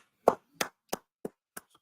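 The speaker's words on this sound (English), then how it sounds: "Clap it up for the Most High." A crowd claps in five spaced, fading bursts, each a sharp broadband smack that thins out toward the end, with no voices during the applause.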